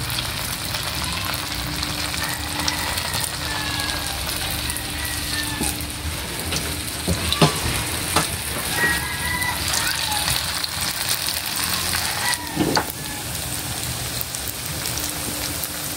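Bean sprout lumpia spring rolls frying in hot oil, a steady close crackling sizzle that runs the whole time with scattered pops, while someone talks now and then over it.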